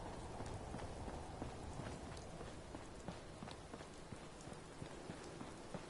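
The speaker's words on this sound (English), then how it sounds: "Get out of this infernal rain." Steady, soft rain patters continuously in Fallout 4, a dense hiss of droplets with faint scattered ticks and no voices over it.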